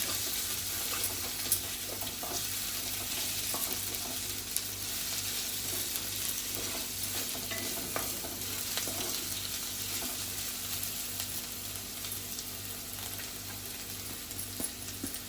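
Onion sautéing in oil in a pan for bitter gourd bhaji, a soft continuous sizzle that stays faint and even throughout, under a low steady hum, with no talking.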